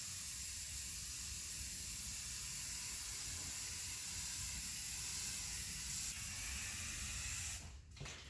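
Rust-Oleum primer sprays from an aerosol can onto a 1978 AMC Gremlin drag car, a faint, continuous hiss that runs without a break before stopping near the end.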